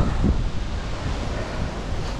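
Steady, broad wind rushes past the open-air hanging bridge over the Mamala River in Sariaya, Quezon, blending with a low, continuous roar like distant surf and buffeting the microphone throughout, with no voices.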